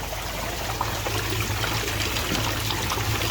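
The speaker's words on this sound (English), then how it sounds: "a lot more splashing than I thought" Water trickles and splashes steadily inside a DIY 25-litre trickle tower with no media to buffer it, a close, continuous hissing patter without talk.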